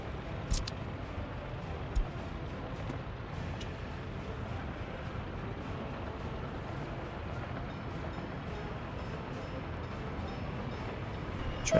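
A glitched locomotive runs steadily in a video game, a continuous rumbling rail noise with a couple of faint clanks and no talking.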